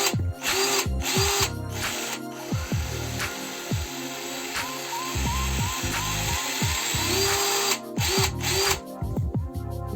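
A small battery-powered pruning chainsaw cuts in the field, its motor whining loud and close with repeated revving and short pauses as the trigger is pressed and released.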